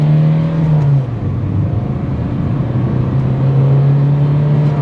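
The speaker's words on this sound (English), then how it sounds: "I'm just trying to demonstrate the amount of engine noise that comes inside the cabin." Kia Sonet diesel with manual gearbox pulling hard from a standstill, engine drone heard from inside the cabin, steady and loud with a low hum that dips briefly at a gear change, then climbs again.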